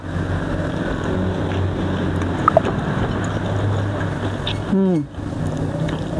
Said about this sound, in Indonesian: motor kan gandeng ngarah lewat